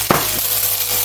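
Two tablespoons of butter hitting a hot pan, a sharp burst of sizzle at the start that settles into a steady frying hiss with a faint clink of metal.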